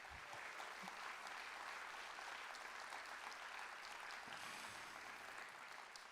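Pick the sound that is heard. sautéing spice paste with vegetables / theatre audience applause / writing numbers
theatre audience applause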